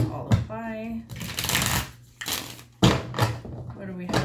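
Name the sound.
tarot cards being shuffled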